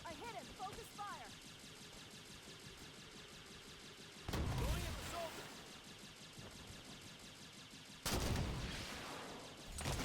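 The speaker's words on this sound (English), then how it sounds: "I am not the best with the sniper rifle, so I ended up resorting to using a bolt shot to take down the last one" Sniper rifle and bolt shot gunfire in the Halo 5: Guardians campaign, with two loud, sharp shots several seconds apart ringing out over busy game noise and talking.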